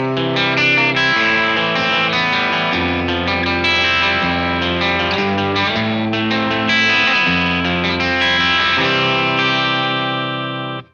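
Clean tone from a Beetronics Zzombee Filtremulator effects pedal on guitar, a sustained chordal passage played steadily and loud for about eleven seconds with no talking.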